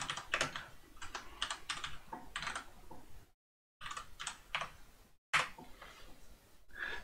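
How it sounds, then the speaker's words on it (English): Fingers typing on a computer keyboard in quick bursts of close, crisp key clicks, broken by two short pauses, with no talking. "That's how I do a typing."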